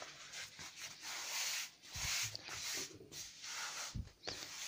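A sheet of isolon foam is folded in half and then in half again, giving soft, close rustling and rubbing that comes in several uneven bursts with brief pauses.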